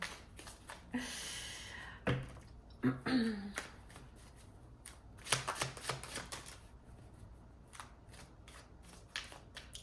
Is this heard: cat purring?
no